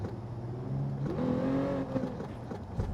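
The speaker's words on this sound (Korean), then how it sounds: "이번엔 엔진 소리가 나네" A Genesis Coupe's engine in Gran Turismo 7 on PSVR2 hums and then revs upward in rising, whiny tones, steady and moderately loud with no talking.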